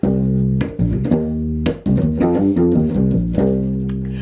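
A bass guitar plays two short melodic phrases of plucked, sustained notes, alone and fairly close, with brief pauses between groups of notes.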